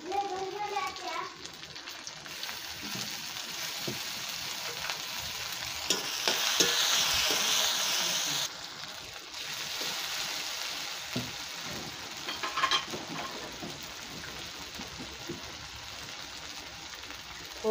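Tomato fries with onion and garlic pieces over a wood-fired stove, with a continuous sizzling hiss and repeated stirring scrapes while a person talks over the cooking.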